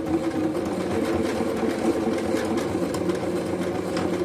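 A sewing machine runs a zigzag stitch with a short backstitch, giving a steady, close, fast mechanical chatter that drones evenly throughout with no pauses.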